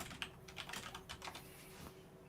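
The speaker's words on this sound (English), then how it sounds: "after that little ASMR, little keyboard thing from Eric there" Fast, uneven clicking of computer keyboard keys being typed on, close and fairly soft, with no voices over it.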